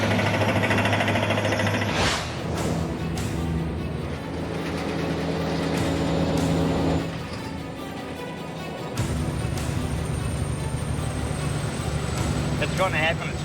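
A drilling machine at a drill site on the edge of the Gibson Desert in Central Australia grinds and rattles loudly. Its tone shifts abruptly at a few points as the machine's load changes.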